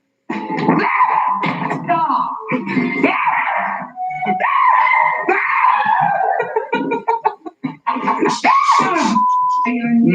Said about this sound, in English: edited together a year's worth of those jumps and screams